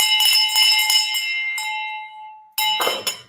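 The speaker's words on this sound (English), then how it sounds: "I don't know how that bell sounds with this lapel mic." A bell rung in celebration on a real estate show rings out in a bright, sustained peal that slowly decays, then is struck again for a second, shorter burst of ringing, with no talking.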